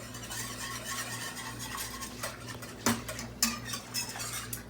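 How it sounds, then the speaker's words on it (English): A whisk scrapes and clinks against a pot as Cincinnati chili seasoning from a packet is stirred in, a steady soft swishing with a few sharper metallic taps near the end. "Get your whisk and whisk it up really good."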